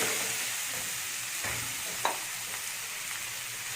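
Grated carrot with dry fruits frying for carrot halwa, a steady broadband sizzle with a few soft stirring scrapes and one sharp clink, close up and with no voices.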